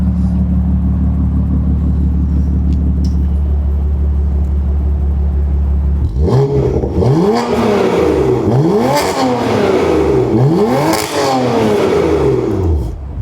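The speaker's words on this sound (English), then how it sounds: "Let's go hear it with the valves closed." A BMW F80 M3 with its exhaust valves closed idles with a deep steady drone, then revs in four or five sharp rising and falling bursts, loud and close.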